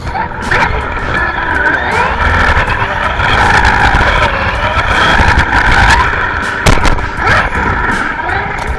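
A small brushed-motor EC30 RC car tearing around a skate park, its high whining motor buzzing loud and close with rising and falling pitch, plus scuffs and clatters, voices talking in the background.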